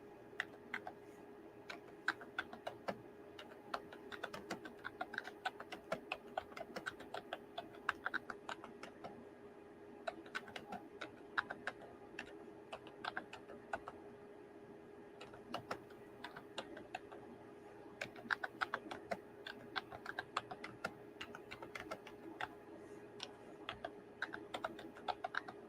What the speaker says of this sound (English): Let me type this.